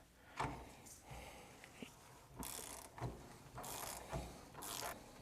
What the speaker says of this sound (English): I think torque on this is 21 foot-pounds or 22 or something like that, so just snug it up